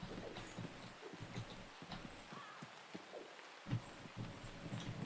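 Horse hooves clop in a steady, faint rhythm in the Frostweaver video game, a soft patter running under quiet game ambience.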